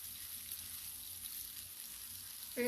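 Tilapia fish frying in a pan, a soft steady sizzle running quietly throughout, with a brief brighter tonal sound cutting in right at the end.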